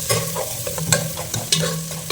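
Fennel and fenugreek seeds frying in hot oil for a fish curry, a close, continuous sizzle with repeated scraping stir strokes of a spoon against the pan, no voices.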